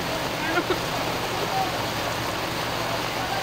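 Very heavy rain in Calamba, Laguna near Central 2 elementary school, a dense continuous hiss of downpour and running water, with faint voices under it.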